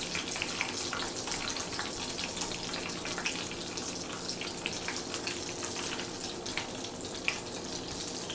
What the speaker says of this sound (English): I'm letting some of the oil drain because I don't want to drip.